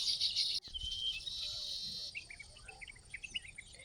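Birds sing in a quiet natural setting, with a steady high insect-like trill early on, then scattered thin chirps and tweets nearby and farther off, soft and continuous with no voices.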